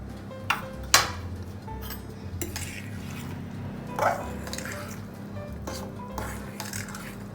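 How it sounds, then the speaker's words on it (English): A utensil gently mixes banana honey muffin batter in a bowl, giving scattered soft scrapes and a few sharp clinks against the side over a quiet background. "Give it a gentle mix."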